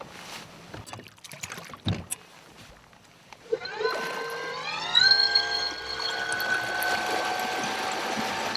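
Fishing boat outboard motor on a Virginia lake, clunking and knocking at first, then starting up and revving to a rising, steady drone that holds loud and close to the end.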